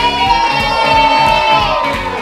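An audience at a charity fashion show with a Bollywood designer cheers and whoops, a loud burst of mixed shouting voices and rhythmic clapping close by, sustained for a couple of seconds.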